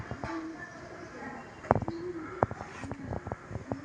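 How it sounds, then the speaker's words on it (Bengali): Flock of pigeons released on a winter morning, with soft cooing and a few sharp wing-flap bursts as the birds take off, close by under a steady outdoor background. "পায়রাগুলো কিরম উঠছে সবাই দেখো তোমরা"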